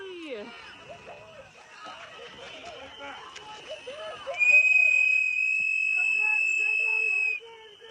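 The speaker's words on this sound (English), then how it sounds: "Hate this damn whistle." A long, shrill whistle blast sounds loud and sustained for about three seconds near the end, following a stretch of excited chatter and voices from a crowd at a protest.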